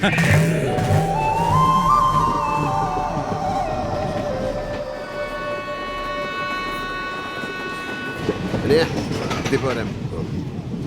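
A moving passenger train rumbles steadily under an ongoing conversation on board, with a low rolling hum throughout and tonal rail squeals rising and fading partway through.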